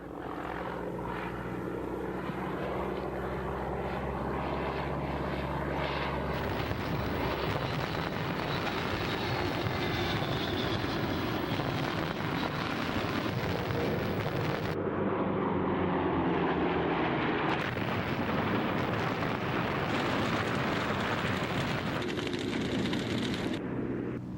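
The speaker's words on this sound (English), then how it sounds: "they order the heavy bombing of Minsk, Rovno, Odessa, Kaunas, and Sebastopol in parallel to the invasion" A continuous heavy aircraft engine drone of bombers on a wartime bombing raid, loud and dense, rumbling steadily throughout with a brief shift midway.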